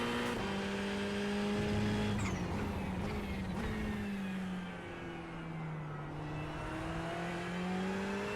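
Ferrari GT3 race car in iRacing at Circuito de Jerez holds full throttle, a steady high engine howl that dips slightly and climbs again, loud and continuous with no speech.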